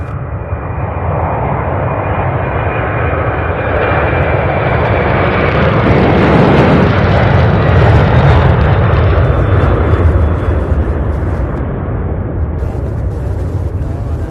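An MD-11 jet airliner powers along at Louisville International Airport, a loud, continuous engine roar that swells toward the middle and holds strong throughout, with no talking.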